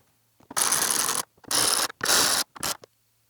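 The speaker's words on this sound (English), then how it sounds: "Now we can insert our 4 screws back in and tighten them down." Screws being driven into a Mazda Miata NA taillight with a ratcheting tool, four short close bursts of rapid clicking separated by brief pauses, the last one shortest, in an otherwise quiet space.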